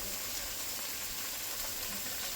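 Spice paste frying in oil in a pan for a Bengali fish curry with okra, giving a steady, even sizzle and hiss that stays close and unbroken, with no voices.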